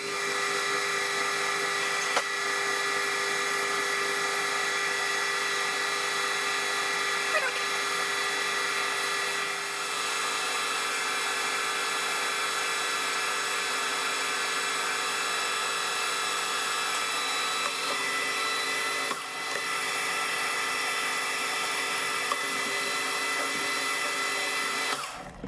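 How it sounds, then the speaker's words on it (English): Metal lathe taking a final cut, bevelling and cleaning up the ends, then parting off a steel excavator pin for a Yanmar machine with a TNGG insert; a steady, loud whining tool hiss runs unbroken throughout with no talk. "Take the last cut, bevel this end, do a clean up on this end, and then part it off."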